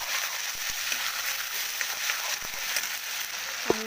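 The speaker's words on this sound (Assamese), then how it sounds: "মশলাখিনি জোখাৰে ভালকৈ মিহলাই দিছোঁ আৰু ভালকৈ মিহলাই লৈছোঁ" Spices being stirred into meat in a pan, a faint steady sizzle with soft scraping and occasional light clicks of a spoon against the pan, with no talking.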